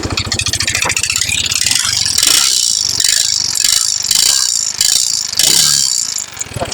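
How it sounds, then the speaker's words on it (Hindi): Yamaha R15 motorcycle engine running with a loud, steady mechanical clatter, suspected timing chain, tappet or piston knock, a rapid metallic rattle pulsing throughout, close and constant with no voices. "इंजन की आवाज़ खतरनाक आ रही है"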